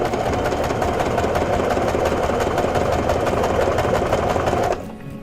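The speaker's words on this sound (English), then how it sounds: "I have my second pin lined up under the presser foot, and I'm just going to sew along." A sewing machine stitches a patch onto a pair of pants, making a steady, fast, even whirring hum up close that runs continuously and then stops abruptly near the end.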